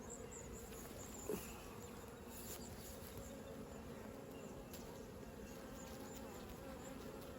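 Honeybees buzz around an open beehive during a hive inspection, a steady, soft, continuous drone with no voices.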